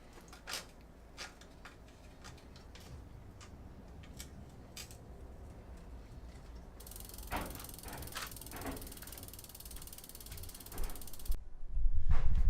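A bicycle rear wheel is pulled into the dropouts and snugged down, giving steady ratcheting and mechanical clicking close by, growing louder toward the end.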